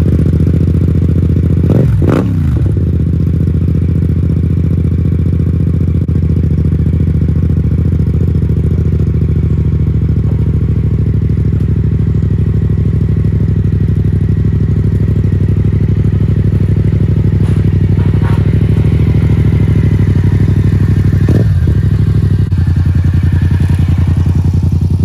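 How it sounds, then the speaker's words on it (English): A 2016 Yamaha FZ-07 set up for offroad use, fitted with knobby tires and a crash cage, idles steadily and loudly close by, with a couple of brief clattering knocks as it sits loaded. "It's a 2016 Yamaha FZ-07."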